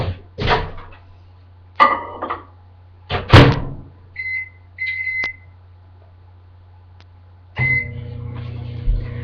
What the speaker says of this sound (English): So I'm going to go ahead and put that in my microwave.